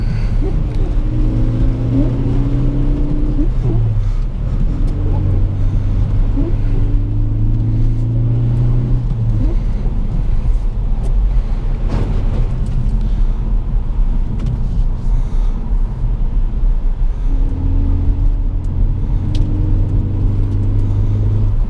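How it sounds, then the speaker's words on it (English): 2017 Ford Focus ST four-cylinder EcoBoost engine droning and revving from inside the cabin with induction noise, pitch rising and falling as it accelerates on snowy roads, loud and constant with road rumble underneath. "I always loved the way the ST sounds with the induction noise it has from the 4-cylinder EcoBoost."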